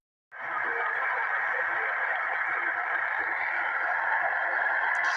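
Steady hiss of white-noise static from a Radtel RT860 handheld radio on HF with a short 28-inch SMA antenna, starting abruptly and holding constant and fairly loud throughout.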